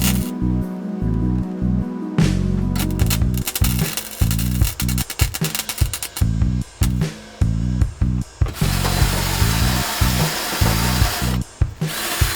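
Flux-core welding of short beads on a car's steel floor pans: repeated bursts of harsh crackling buzz with a humming undertone, stopping and starting in quick succession, loud and close.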